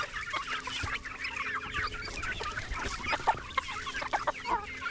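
Several chickens cluck and chatter in quick, irregular bursts, a busy flock close by with overlapping calls, including a hen, on a snowy Tennessee homestead.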